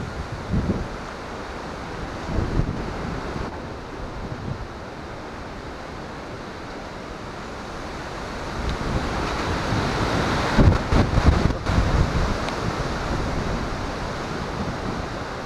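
Steady, roaring wind during a typhoon buffets the microphone, with broadband rushing noise that swells and gusts louder toward the end.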